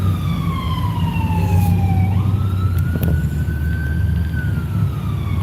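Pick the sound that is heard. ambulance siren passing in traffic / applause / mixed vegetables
ambulance siren passing in traffic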